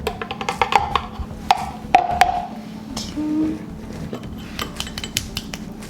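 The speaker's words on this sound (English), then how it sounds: "we're going to put the eggs, the whole wheat flour, and the baking powder, and then also the salt into the bowl" Eggs, whole wheat flour and baking powder are tipped into a mixing bowl, making a series of short, close clinks and taps of utensils against the bowl, with a soft rustle partway through. No one speaks.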